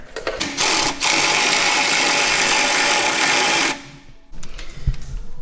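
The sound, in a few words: power tool driving bolts into Golf Mk7 shock mount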